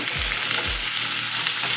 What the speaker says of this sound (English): Steak going in. You want to hear that sizzle.